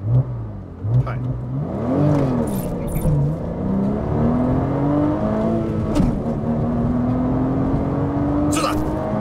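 A Porsche launches hard and accelerates to 100 km/h, its engine loud and close, pitch climbing steadily through the gears with brief dips at the shifts. People talk in the car throughout.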